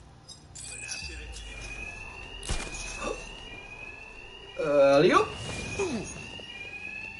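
Alarms blare continuously in the Batman Arkham Knight video game, a sustained electronic ringing running under speech, thuds and a brief burst of louder action.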